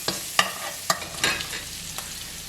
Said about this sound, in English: This is where I'm going to saute my carrot and onions.